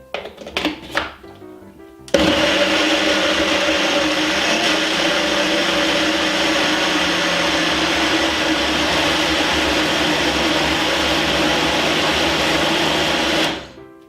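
A blender whirs loudly and steadily for about eleven seconds while blending homemade protein ice cream, after a few thunks and brief handling at the start, then cuts off abruptly.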